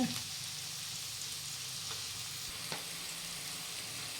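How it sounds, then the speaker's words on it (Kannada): Onions fry in oil in a home kitchen pan, giving a soft, steady sizzle with a few faint stirring clinks, quiet and close with no talking. "ಸ್ವಲ್ಪ ಈರುಳ್ಳಿ ಫ್ರೈ ಆಗಲಿ"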